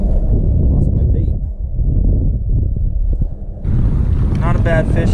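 Wind buffets the microphone while someone fishes from a boat near shallow rocks, a loud continuous low roar that eases briefly and returns, with faint bird-like chirps over it.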